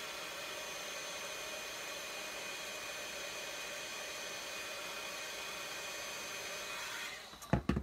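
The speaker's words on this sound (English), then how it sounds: "I'm gonna heat emboss this real quick." A heat gun blows a steady, loud whooshing roar while melting embossing powder on a small paper sentiment, running unbroken for several seconds before cutting off near the end with a few clunks.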